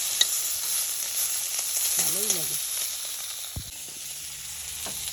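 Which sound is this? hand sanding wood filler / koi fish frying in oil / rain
koi fish frying in oil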